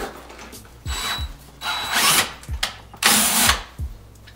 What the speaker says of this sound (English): we're gonna drill a hole appropriately sized for a quarter pipe fitting